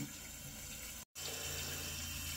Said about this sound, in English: As water refills the tank